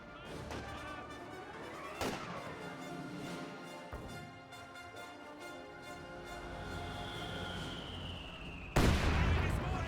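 Battlefield gunfire in Company of Heroes 2, with sustained rattling fire and sharp thumps near 2 s and 4 s, then a loud blast near 9 s, over a busy din of combat.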